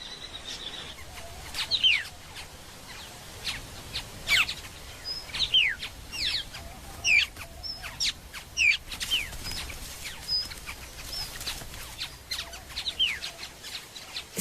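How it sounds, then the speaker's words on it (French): An Australasian figbird in Australia calls repeatedly with short, sharp, downward-sliding whistles and chirps, spaced irregularly at moderate distance over soft background hiss, with no talking. "Cet oiseau est spécialisé dans le plagiat. C'est le sphécotère de Vieillot, le cousin d'Australie de notre loriot."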